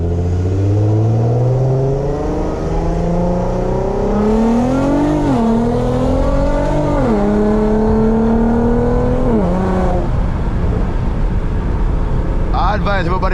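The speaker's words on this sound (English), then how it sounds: "Like this car is overly loud, bro." A 400 whp Infiniti Q50 with a VQ engine accelerates hard, its loud exhaust droning as the pitch climbs through several gear changes with brief dips between, heard from inside the car, ending in a short crackle.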